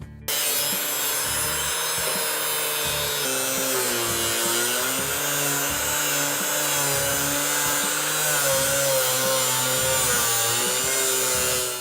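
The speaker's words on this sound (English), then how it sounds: "I'm going to start off by cutting under my tape line" A power tool cuts through the rear bumper of a 2016-2022 Toyota Tacoma, giving a continuous, loud, close whining drone whose pitch slowly bends and wavers throughout with no break.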